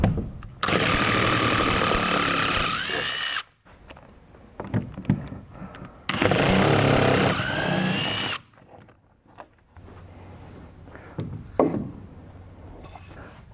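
A power drill or impact driver backs lag bolts out of a wooden airplane wing crate in two long, loud whirring runs, with quieter handling clatter between them.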